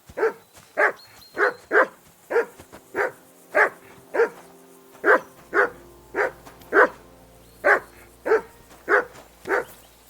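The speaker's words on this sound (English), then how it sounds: "That barking was a pain in the ass." Dog in the Kingdom Come Deliverance 2 video game barking steadily, about fifteen loud, evenly spaced barks over ten seconds, close and clear with no talking.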